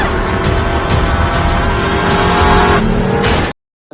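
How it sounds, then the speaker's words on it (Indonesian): A car accelerates hard at full throttle in a film scene, a loud continuous engine roar that builds and holds for several seconds before cutting off abruptly into silence. "tiba-tiba driver pun mulai berubah dan langsung menginjak full gas mobilnya"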